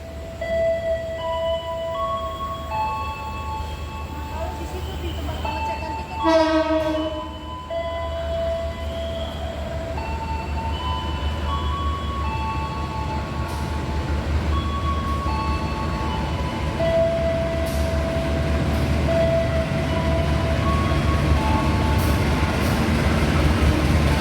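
Jakatingkir passenger train on the Yogyakarta to Jakarta run, a steady loud rumble of the moving train heard from inside the carriage, with a brief louder burst partway through and no talk.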